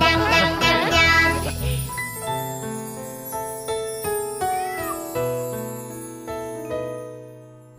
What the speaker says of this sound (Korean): 야옹 야옹 고양이, 냥냥냥냥.